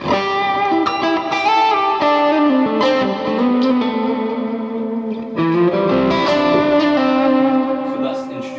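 A distorted electric guitar plays sustained chords and notes through a Line 6 Spider V amp on a driven setting, loud and continuous with a fizzy, driven tone.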